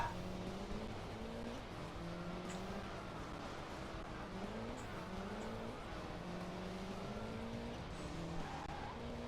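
Tires skidding and squealing as a car oversteers in a racing video game, with repeated wavering screeches over a constant engine whine, quiet and continuous, with no talking.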